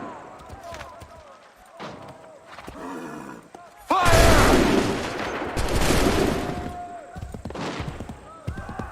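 Musket volleys in Assassin's Creed III ring out as several loud, crackling bursts of gunfire among shouted commands and battle noise, with the heaviest volley erupting midway and scattered shots following.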